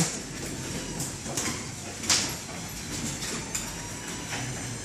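A low, steady mechanical hum runs quietly throughout, with occasional light clicks and rattles on top and no talking.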